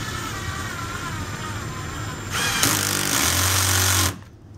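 Power drill driving into a pilot hole on a horse bow kit: a steady, close, loud motor whine, then a harsher rising grind as the bit bites, cutting off abruptly near the end.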